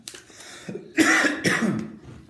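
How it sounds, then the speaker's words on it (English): A single harsh cough, close and loud, preceded by a brief throat-clearing rasp. "getting a little bit of a cough the last couple of days"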